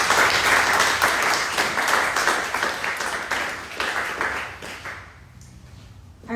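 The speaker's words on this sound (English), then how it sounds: "please give me a round of applause for Megan" An audience at a panel discussion claps for a panelist, a dense round of many hands that stays full for about five seconds and then fades away.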